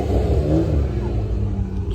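Ferrari engine revving at a large Ferrari charity gathering, a steady, loud low rumble of the car close by with faint voices underneath.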